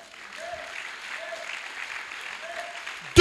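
A church congregation applauds steadily through a Sunday service, with a broad, even patter of clapping held at a moderate level for several seconds until a louder sound rises sharply at the very end.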